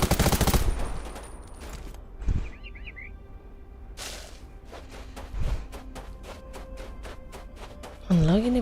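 Gunfire in the survival shooter Undawn comes as a loud burst at the start, then a rapid run of evenly spaced, sharp automatic shots, with game bird chirps and a few isolated impacts between.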